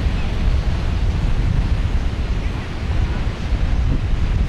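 Waves on a Pacific Ocean beach make a constant loud roar of surf, mixed with heavy wind rumble across the microphone.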